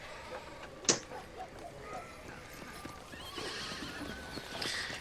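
Horses in a video game give a sharp close whinny, then hooves clip-clop in an uneven rhythm under soft background noise, with a faint second neigh toward the end.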